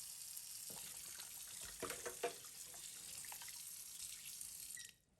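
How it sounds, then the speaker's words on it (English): Tap water runs steadily into a kitchen sink while raw pork belly is rinsed under it, a soft continuous splash with a few brief knocks, cutting off just before the end. "Now rinse off the pork."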